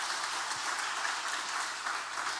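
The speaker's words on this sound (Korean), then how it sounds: "박수 한번 해주시고." Congregation applause during a Korean Sunday church worship service, a continuous, even patter of many hands clapping at moderate distance, steady for the whole stretch with no talking.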